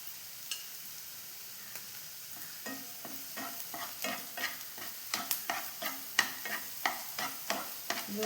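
Sliced onion sizzling as it fries in a pan for a Kerala kalathappam made with wheat flour, stirred with a utensil that scrapes and clicks in a steady rhythm of repeated strokes, up close, with no talking.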